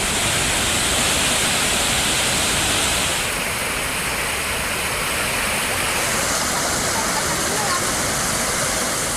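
The Hogenakkal waterfalls on the Kaveri river, swollen by increased flow, roar as a dense, constant broadband rush that fills the whole stretch loudly and evenly, without pause.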